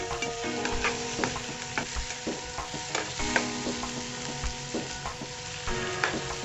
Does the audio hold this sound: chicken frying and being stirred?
yes